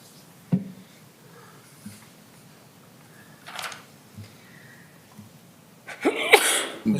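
A single sneeze rings out in a meeting room near the end, a sharp burst following scattered faint coughs, knocks and a quiet background, with no speech over it.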